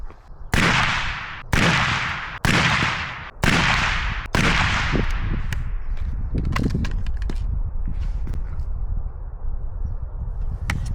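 Five evenly spaced rifle shots fired through an Otter Creek Labs Infinity suppressor, each a sharp crack with a trailing decay, followed by a lingering rumbling echo outdoors.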